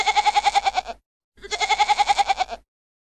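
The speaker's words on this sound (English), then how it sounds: "Goat." A domestic goat bleats in two separate bursts, each a wavering series of quick pulses, loud and close with a short silence between them.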